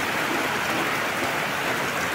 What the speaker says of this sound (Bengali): দেখো বাইরে বৃষ্টি শুরু হয়ে গেছে।